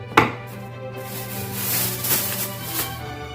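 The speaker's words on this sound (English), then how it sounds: "just chop up a little bit of cilantro" A knife chops fresh cilantro on a cutting board while a simple sandwich is made, a sharp first stroke followed by softer, quick cuts, close and alone.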